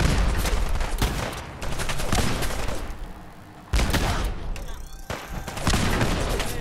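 Rapid gunfire bursts in the Fallout 4 video game, loud volleys of shots fired in clusters with brief lulls between them, recurring throughout a firefight with Raiders, with faint speech underneath.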